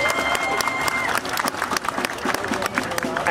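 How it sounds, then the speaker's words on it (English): Crowd applauding a St Patrick's Day window display winner in Monaghan town, scattered outdoor clapping with sharp individual claps and some crowd noise, uneven in loudness. "Can we get a round of applause for Dirty Fabulous?"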